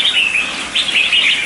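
A wild-caught red-whiskered bulbul, kept about three months in a cage, calls up close and loud in bright, rapid chirping phrases that run almost without pause, with no voices.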